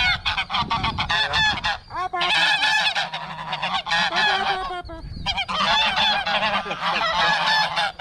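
A loud bird honks and squawks over and over, harsh and close, in rapid bursts with only brief pauses.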